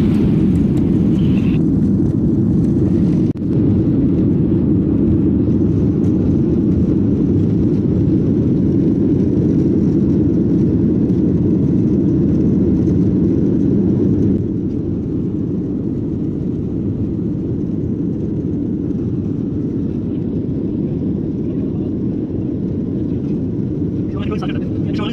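Steady loud airliner cabin drone during a flight over Kolkata, a deep continuous roar of engines and airflow that holds for the whole stretch, with a brief thump early on.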